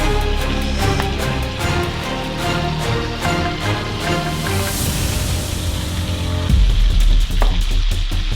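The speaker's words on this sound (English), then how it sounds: "Separate pan, I'm adding a little bit butter." Butter sizzling in a separate frying pan while cooking a wagyu cheeseburger, a steady close crackle and hiss that grows louder and busier toward the end, with no talking over it.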